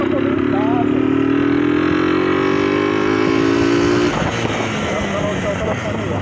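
Motorcycle engine idling and revving close by, a steady loud drone that rises in pitch before dropping, with wind noise over the microphone.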